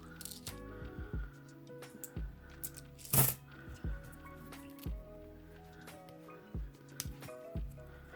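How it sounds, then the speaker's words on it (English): Paper rolls of Australian $2 coins being torn open, a series of crisp paper rips and crackles with faint coin clinks at irregular intervals, one sharp louder crack in the middle, close up and without talk. "Still having a bit of trouble with the opening of the paper rolls."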